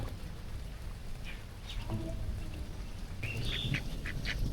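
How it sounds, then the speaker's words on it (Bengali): Several domestic ducks quack in short, scattered bursts over a low rumbling background, growing busier toward the end. "দেখো বন্ধুরা হাঁস ও খেলছে"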